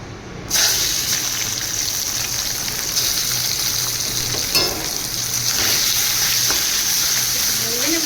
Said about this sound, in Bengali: আমি ভেন্ডির অম্বলটা করার জন্য একটু চিংড়ি মাছটা ভেজে নেব